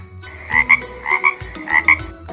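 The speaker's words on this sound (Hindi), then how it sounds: "फ्रॉग यानी मेंढक" A frog croaks in three rhythmic pairs of throaty calls, each pair made of two quick, clear notes, spaced evenly over a quiet low background with no voices.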